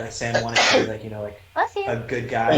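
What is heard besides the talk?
sneeze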